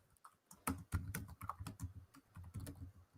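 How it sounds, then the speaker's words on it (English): A computer keyboard is typed on in quick irregular bursts of close, crisp key clicks with brief pauses, alone without talk. "typing in the chat"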